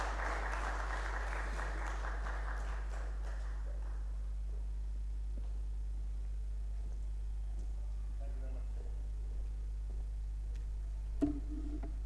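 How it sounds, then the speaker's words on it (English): Audience applause for conference panelists, a dense patter of clapping for a few seconds that thins out and fades over a steady low hum, with faint voices afterward. "please give our fine panelists a warm round of applause"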